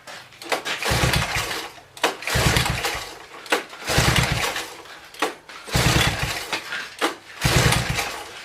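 Honda three-wheeler engine struggling to run, with repeated bursts of loud, rough, sputtering running that die away roughly every second and a half, about five cycles in a row.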